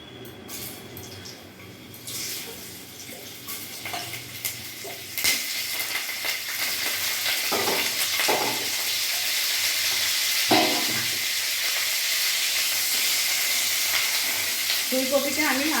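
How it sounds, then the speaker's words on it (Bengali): Cauliflower shallow frying in hot white oil in a home kitchen pan, a steady loud sizzle with crackles and occasional stirring clatter, continuous and close throughout. "ফুলকপিটা আমি হালকা শ্যালো ফ্রাই করে নেব।"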